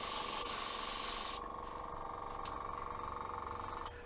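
A yellow spray gun, partly clogged, hisses lacquer onto a turned wooden tulip bowl: a loud close spray for just over a second, then a quieter sputtering hiss with a faint tonal whine running underneath.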